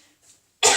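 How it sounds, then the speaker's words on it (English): A single sharp, loud cough bursts out in a kitchen while egg fried rice with chili is cooked, near the end after a moment of near silence. "Sorry, coughing."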